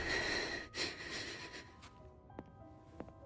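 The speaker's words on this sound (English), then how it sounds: "Why is she breathing so heavily?" Heavy, rough breathing from a female character in the video game Wuthering Waves, loud and breathy at the start, then fading under quieter game tones and a few faint clicks.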